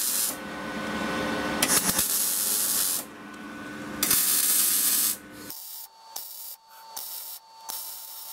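A straight-pipe exhaust for a drift Subaru is welded in bursts, each a steady close hiss and crackle broken by pauses, followed by a few shorter, sharper spurts.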